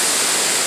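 Steady broadband rush of a water current flowing past the ruins of an 1800s water power plant in Independence, Virginia, loud and continuous with no voices.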